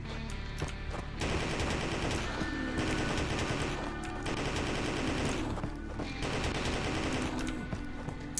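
Ranged weapon fire in an indie video game, loud rapid automatic bursts that start and stop several times, broken by brief pauses, with no voices.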